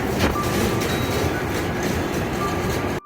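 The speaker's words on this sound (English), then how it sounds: "Okay, another train has just left." A passing train rumbles and clatters steadily nearby, with faint squealing tones over the roar, then cuts off abruptly at the end.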